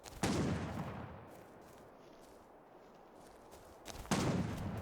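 A rifle shot in the survival video game Miscreated goes off as a sharp, loud crack with a rolling tail, followed by a quieter lull before a second loud shot rings out near the end.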